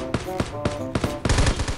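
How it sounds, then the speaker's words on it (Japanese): Bursts of gunfire ring out in the mobile battle-royale game Knives Out, several quick rapid-fire volleys clustered in a steady rhythm, fairly loud with no talk over them. "待って、なんか銃声鳴ってる。"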